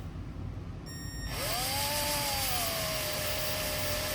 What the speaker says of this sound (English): that is going to scrub in your tire